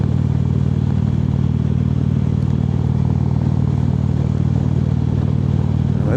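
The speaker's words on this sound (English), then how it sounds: "The old bike, that's a 2014 Ultra Limited." A 2014 Ultra Limited motorcycle cruises steadily on the road between Lake Benton and Pipestone, Minnesota, a loud, constant low engine drone mixed with wind rumble, with no speech.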